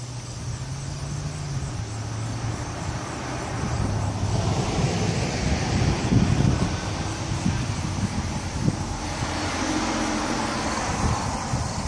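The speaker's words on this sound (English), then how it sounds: "There seems to be a lot of traffic for some time this time of day." Street traffic rolls past in a continuous broadband roar, swelling as louder vehicles pass in the middle, with low engine hum throughout and no talking.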